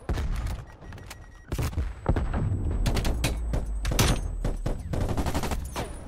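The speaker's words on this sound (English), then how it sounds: "Enemy sniper shooting." Enemy sniper fire in Call of Duty Black Ops Cold War, loud sharp gunshots in a rapid, uneven burst of cracks and thuds packed close together, some overlapping into a fusillade.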